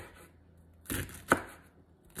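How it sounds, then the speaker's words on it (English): A knife chops celery on a cutting board in a few sparse, sharp chops, close and fairly quiet, with soft background noise between. "I'm going to start with my celery. Going to chop it up"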